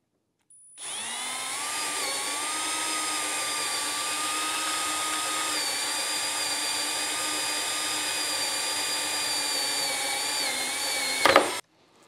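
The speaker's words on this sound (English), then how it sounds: "Got the drill ready. We'll go ahead and make a hole." A power drill drills a hole in a metal keg, whining loudly and continuously for about ten seconds with a steady high pitch, then cuts off with a brief clatter at the end.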